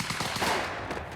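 Prop guns fire on a film set in a dense, rapid, continuous burst of gunfire lasting about a second, fairly loud and reverberant.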